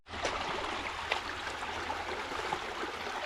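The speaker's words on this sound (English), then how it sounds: "It was a beautiful creek nonetheless." Creek water flows steadily past, a continuous close rushing and trickling stream with small gurgles, no voices.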